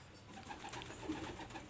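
Pigeons in a loft in Kolkata make soft, continuous cooing close by, with no voices over it.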